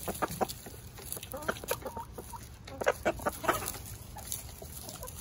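Backyard chickens cluck and squawk near the microphone in a busy series of short, uneven calls, loud bursts over a low steady background, with no talking.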